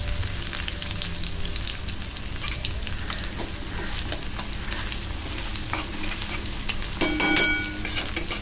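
Chopped onion frying in a pan for a Malvani tarali fish chutney, a steady close sizzle with stirring scrapes and a brief louder flare near the end.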